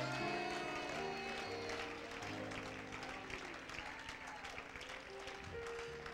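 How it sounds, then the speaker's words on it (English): A church congregation claps in praise during a service, the clapping steady and moderately loud over sustained organ or keyboard chords and some crowd noise. "Now give the Lord a hand clap offering of praise"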